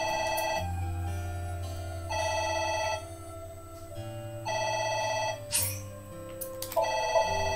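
A phone rings in the video game AI: The Somnium Files, repeated electronic ring bursts with short gaps between them, loud and close, with no talk over it.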